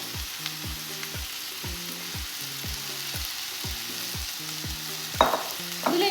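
Cleaned, cut button mushrooms frying in butter in a pan, a soft steady sizzle under a repeating rhythmic pattern of tonal clicks, with a couple of brief louder scrapes near the end.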